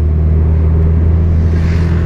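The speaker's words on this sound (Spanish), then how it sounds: "hay que darle un pequeño golpe de gas porque obviamente es una velocidad elevada para el cambio" Steady low engine drone from a driving-school car in third gear at around 50 km/h, given a short blip of throttle while overtaking on a highway; a continuous, close, even rumble with no talk.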